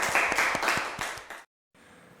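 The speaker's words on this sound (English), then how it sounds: "A big round of applause." Audience applause in a Std 7 English class session, a short burst of clapping with a few distinct hand strikes, fairly faint, cutting off abruptly into silence before a low background hum.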